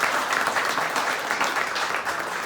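An audience at a soppressata competition applauds, a dense, steady burst of clapping from many hands that fills the whole short stretch at even loudness.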